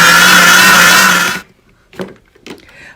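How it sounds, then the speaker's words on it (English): Blender whirring loudly and steadily as it purées mole sauce ingredients with chicken broth, then cutting off abruptly, followed by a few soft clatters and knocks in a quiet kitchen. "now I'm getting everything out and putting everything in the blender, even the chicken broth"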